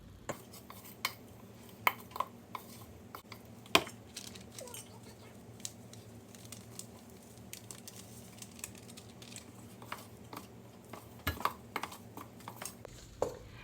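A utensil stirs pasta salad with dressing powder in a bowl, giving scattered light taps and scrapes, some sharper clinks, over a quiet background.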